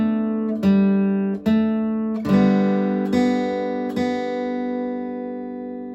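Acoustic guitar playing two measures of the melody of Good Night Ladies, five clear plucked notes and double-stops in an even, slow rhythm, each ringing and decaying, close and alone.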